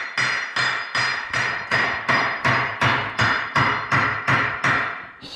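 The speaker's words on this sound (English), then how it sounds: "So Richard's over there hammering on those damn tires" A steady series of about a dozen sharp metallic hammer blows on tires, evenly spaced and loud, each ringing out briefly before the next.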